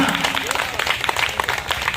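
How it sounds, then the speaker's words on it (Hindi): An audience applauding loudly at the inauguration of a Durga Puja pandal, dense continuous clapping close by with a voice talking over it. "जोरदार ताली बजनी चाहिए"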